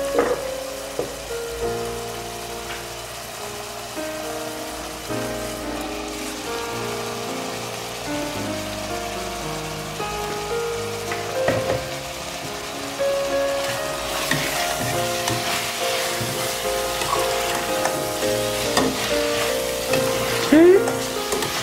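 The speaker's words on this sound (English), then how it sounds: "as that is frying and incorporating, I am gonna add in our peppers now." Chicken and peppers fry in a pan for a spaghetti chicken stir-fry, giving a steady, close sizzle with scraping stirs and little variation throughout.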